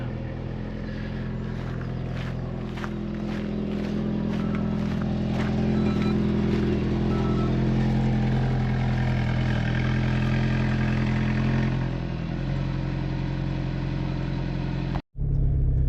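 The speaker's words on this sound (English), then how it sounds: "This is going to be the last drive in the A110." An Alpine A110 on its last drive gives off a continuous, fairly near engine drone with a low rumble, steady for most of the run before abruptly cutting out near the end.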